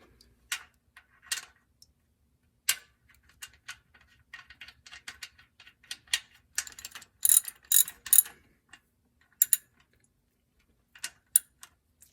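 Ratchet clicking in short bursts as an oil drain plug bolt is tightened on a Chevy Tahoe, close and fairly quiet, with pauses between runs of rapid ticks.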